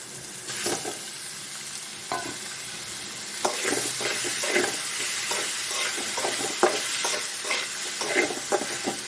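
Wheat semolina (rava) roasting in a pan for wheat upma, stirred with a spoon: repeated scraping strokes and soft crackling sizzle, close and fairly steady, with no talking.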